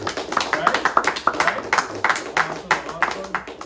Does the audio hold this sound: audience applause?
yes